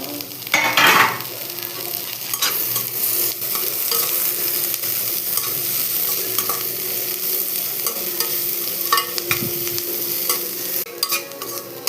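Carrots, beans and capsicum stir-fried for homemade chicken rice, a steady broadband sizzle running throughout with scraping stirs and a louder clatter near the start, close and continuous with no talking.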